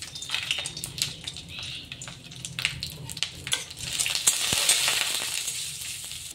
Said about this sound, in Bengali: তো তার জন্য এখানে প্রথমে বড়িগুলো ভেজে নিতে হবে